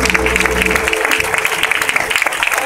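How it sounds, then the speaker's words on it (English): A congregation claps their hands loudly and steadily at a home going service in church, a dense, rhythmic wash of clapping with a tonal musical hum underneath. "Come on, clap your hands."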